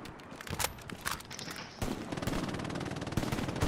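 Sustained bursts of gunfire from the WWII shooter Hell Let Loose on a Stalingrad map, with sharp shots early giving way to dense, continuous rapid firing that builds toward the end.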